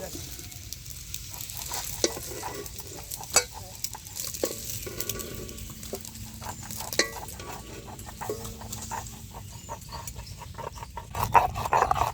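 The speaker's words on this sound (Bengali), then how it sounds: "ডিম ভাজা হয়ে গেছে নামাই নেবো" Eggs frying in oil in an outdoor village kitchen: a continuous soft sizzle with occasional scrapes and clinks of a utensil stirring the pan, nearby and fairly quiet.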